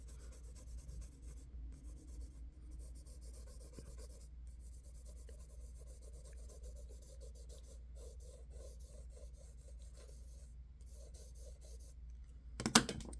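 A pencil shades a drawing of a chicken on paper, a faint, close scratching and rubbing in short repeated strokes with brief pauses between bursts, ending in a sharp knock as the pencil drops.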